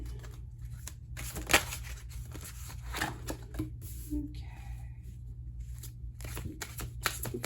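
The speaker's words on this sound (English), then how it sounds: "this deck has been shuffled a million times since group 1" A deck of tarot cards is shuffled by hand in a run of soft, irregular riffling flicks and slides over a low steady hum, close and moderately quiet.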